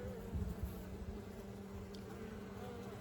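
Honeybees working comb inside a 24-frame Layens hive during an April inspection, a faint, steady, close buzzing hum that continues without pause.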